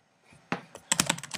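Password typed on a Mac computer keyboard: a quiet scatter of close, crisp key clicks, a few isolated presses, then a quicker run of taps.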